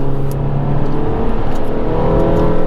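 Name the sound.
Mini sports car engine accelerating on test track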